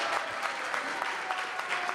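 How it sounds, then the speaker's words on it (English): An evening devotional gathering in Vrindavan breaks into a round of applause, a steady wash of many hands clapping together with a few sharper claps poking through, holding even throughout. "Let's give a big round of applause to the"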